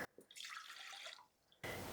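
White distilled vinegar poured into a saucepan, a brief close splashing pour that stops and then gives way to a louder burst at the end.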